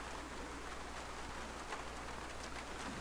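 Steady, faint rain in the survival game DayZ, an even hiss of drops on surfaces with no breaks.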